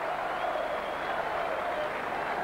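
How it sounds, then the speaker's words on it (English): Crowd applauding at a 1998 rugby league match between Salford and Sheffield Eagles as a player is substituted, steady sustained clapping from a large stadium crowd throughout. "Great applause for Sealy."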